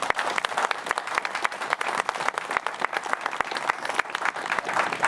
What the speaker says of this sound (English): So I'd like to hear a round of applause for your city staff.